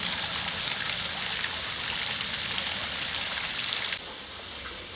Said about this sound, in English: Little waterfall here.